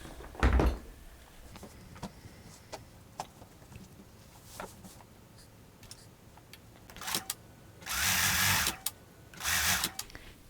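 A sewing machine joins the front and back of a recycled sweater dress, running in short near bursts between clicks and handling knocks, with two longer stitching runs toward the end and no talk.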